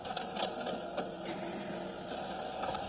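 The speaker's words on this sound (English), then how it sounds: "You can hear the printer now." A printer runs in a courtroom, a faint, steady mechanical whir with light rhythmic clicks, low in level with no talk over it.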